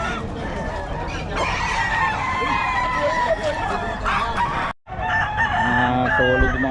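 Roosters crow repeatedly and chickens cluck amid a busy Bocaue poultry market, the loud birdcalls layered over crowd chatter and people talking nearby, with a brief dropout near the end.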